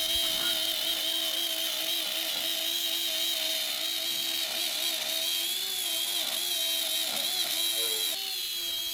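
A router bit with a bearing trims MDF along a template, a steady high-pitched whine with a low mechanical drone that stays loud and continuous throughout, wavering slightly as the bit labours through the cut.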